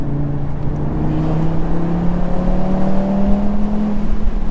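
An Audi TT RS cabriolet with manual gearbox and 340 hp 2.5-litre turbocharged five-cylinder accelerates hard, its engine note rising steadily and loudly from inside the car.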